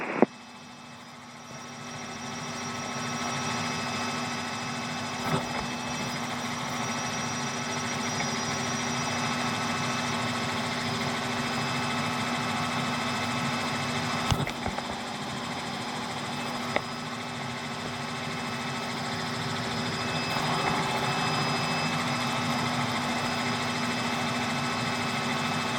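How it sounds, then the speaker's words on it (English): A Robinson R66 helicopter's engine runs at a steady, loud drone with a constant whine and a few faint clicks, recorded in the cabin around Elstree and Denham airfields. "Helicopter"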